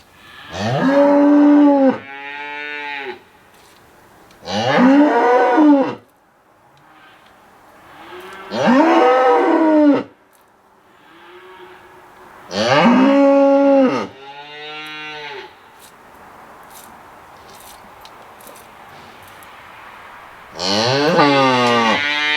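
A cow moos loudly and repeatedly on a farm while a beef heifer calf has been nursing on her, five long, close, bellowing calls spaced several seconds apart with quieter gaps between.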